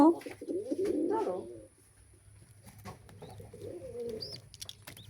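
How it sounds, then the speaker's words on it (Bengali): Soft cooing of a pigeon chick close by, with a few chirps and rustles over quiet background; a voice speaks briefly near the start. "এই যে কবুতরের বাচ্চা"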